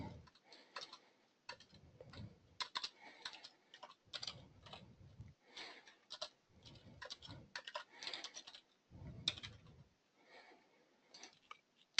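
A password being typed on a computer keyboard, with quick bursts of soft key clicks and short pauses between them, heard close and fairly quiet.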